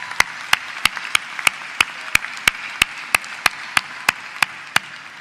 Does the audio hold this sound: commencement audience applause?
yes